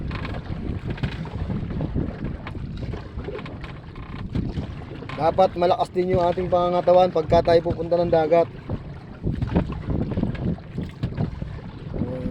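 Wind buffets a small fishing boat on open water on Laguna Lake, with engine drone and rumbling throughout while someone talks over it.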